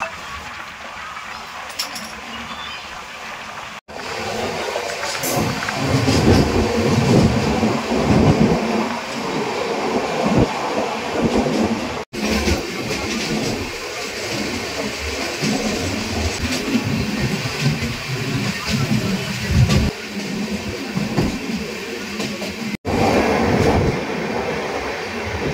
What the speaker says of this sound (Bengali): Train 5 minute late, train 5 minute halt করবে।